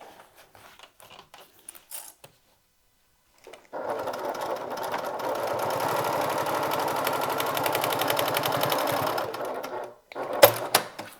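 A sewing machine runs steadily for about six seconds, top stitching the top portion of a bag's zipper pocket closed, bracketed by brief handling clicks before and after.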